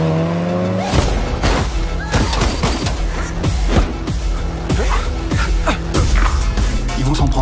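A big car drives hard with its tires squealing, loud and close, its engine roaring amid repeated skids and thumps over several seconds.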